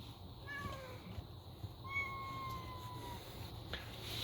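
A cat trapped inside behind a garage door gives a few drawn-out, muffled meows, moderately far off and faint over a steady background hum.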